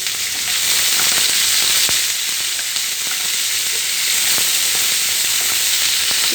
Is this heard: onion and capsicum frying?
yes